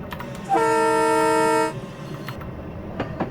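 A single loud, sustained horn blast from a Metro-North M4 electric multiple unit train in Train Simulator 2020, lasting about a second, with rumbling engine noise before and after.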